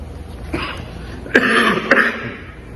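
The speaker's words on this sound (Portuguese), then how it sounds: "desculpem a minha tosse" Three short coughs, the last two louder and harsher, close to the microphone in a quiet room.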